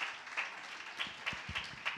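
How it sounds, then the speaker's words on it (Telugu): A church congregation claps to welcome a pastor, a soft, fairly distant patter of applause from a crowd, brief and steady. "ప్రేమపూర్వకంగా చప్పట్లు కొడుతూ"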